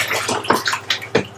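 Yeast is stirred into elderflower wine liquid, giving brief rhythmic sloshing and swishing of liquid, close and fairly loud, repeating in quick pulses.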